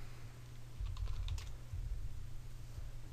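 Typing on a computer keyboard while creating an online account: soft, close clicks of keys in a short burst, over steady low background hum, with no talking.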